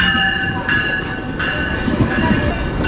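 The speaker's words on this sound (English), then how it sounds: "our Niagara Falls train has just arrived" A GO Transit passenger train rumbles nearby with a high, sustained wheel squeal and metallic hum as it rolls into the station in Ontario.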